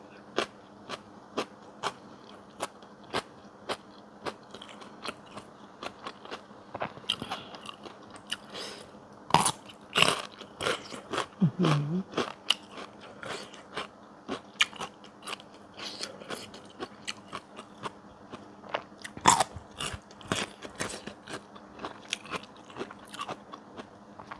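Crunchy boiled bitter bamboo shoots eaten with a stir-fried mango chili dip with dried shrimp, heard as close, repeated crisp bites and chewing crunches in an irregular rhythm, with no talking.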